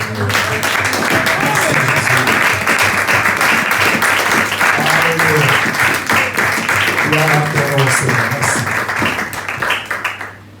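A church congregation applauds steadily and loudly to acclaim the word of the Lord during a French-language sermon, the dense clapping filling the space with voices and tones mixed in before it tapers off.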